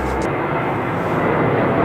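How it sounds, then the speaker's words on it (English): An airplane passes over a park near LaGuardia Airport, a loud, steady broadband engine roar that swells slightly, filling the whole moment without a break. "I'm recording in a park by LaGuardia Airport, so if you hear airplanes here and there, that's why."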